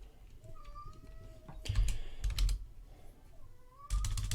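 A message is typed on a computer keyboard in quick bursts of key clatter broken by short pauses, close and clear over a faint background hum.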